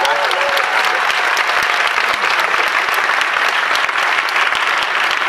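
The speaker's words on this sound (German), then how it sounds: "so viele Leute und ein tosender Applaus" Loud, sustained applause from a large audience at the Leipzig Book Fair 2017 welcoming author Sebastian Fitzek, dense steady clapping filling the whole stretch with scattered cheers.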